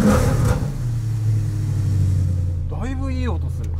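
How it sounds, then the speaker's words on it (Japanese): A Maserati Coupe Cambiocorsa fitted with a sports exhaust gives off a deep, steady low rumble, with a brief rising and falling tone near the end. "スポーツマフラーが入ってるだけあって音がいい"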